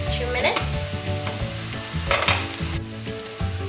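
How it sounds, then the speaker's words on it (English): Chana masala curry sizzles in a frying pan on the stove, a steady close frying hiss with repeated stirring scrapes and clinks running through it. "I'm just going to put the lid on and let that cook for the next 2 minutes"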